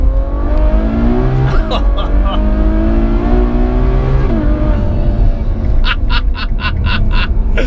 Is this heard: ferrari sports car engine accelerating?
yes